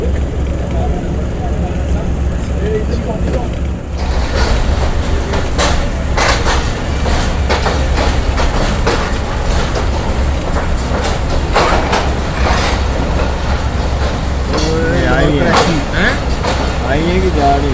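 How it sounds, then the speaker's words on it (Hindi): A passenger train rolls slowly toward Lahore railway station, wheels clattering and rumbling loudly on the track with sharp metallic clicks and squeals, while people talk nearby inside the carriage. "रेलवे स्टेशन करीब आने की वजह से ट्रेन अब आस्ता आस्ता जा रही है।"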